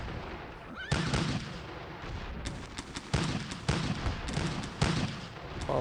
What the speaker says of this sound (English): All of our artillery's firing.